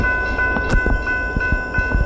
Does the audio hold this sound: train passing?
yes